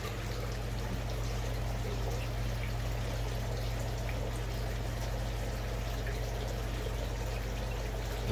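Water being poured out of a pond filter pod, a steady gushing trickle over a constant low pump hum, moderately faint and continuous throughout.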